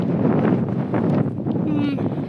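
Strong wind gusting across a misty mountain hillside in Scotland, a loud constant roar buffeting the microphone, with a person talking underneath.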